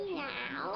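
A voice imitates a cat's meow in one drawn-out, rising and falling miaow, close and fairly quiet.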